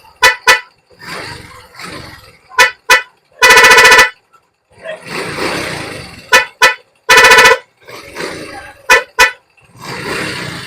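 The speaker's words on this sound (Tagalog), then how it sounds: "para tutunog na maganda yung busina natin kahit mumurahin lang yung busina natin" A newly installed budget dual car horn honks in bursts: quick double toots, a long blast near 3.5 s, more short pairs and another long blast near 7 s. Each is loud and close, with engine or workshop noise running in between.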